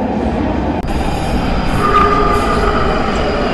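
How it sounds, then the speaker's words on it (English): Loud, steady roar of a London Underground Northern line train to Edgware, with a high wheel squeal emerging partway through as it pulls in. "The train now approaching is to Edgware."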